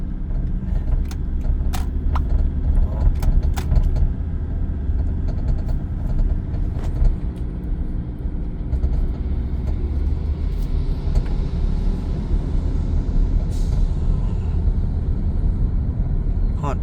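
Cars and motorbikes pass on a curving road, giving a continuous loud rumble of engines and tyres close by with occasional sharper clatters, and a voice is faint underneath.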